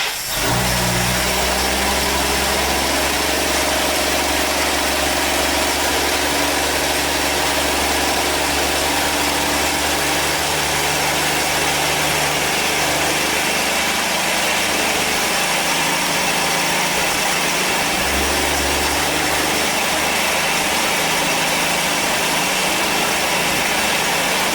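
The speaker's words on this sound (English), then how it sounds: "It's idling way too fast." A 1962 AMC Rambler, found abandoned, idles too fast: a steady, loud, close engine drone with a fixed low hum throughout, no talking.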